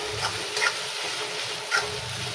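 Ginger, garlic and chilli sautéing in a pan with a soft, steady sizzle and faint stirring scrapes, fairly low and continuous, with no voices.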